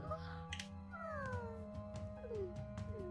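A synthetic, cartoonish cat meows a few times over steady electronic game music and chimes.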